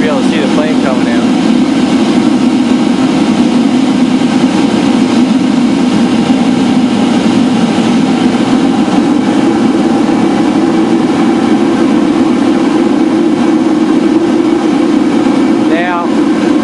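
A homemade turbocharger jet engine combustor run at full throttle, a loud continuous roaring rumble that holds steady throughout, close and unbroken.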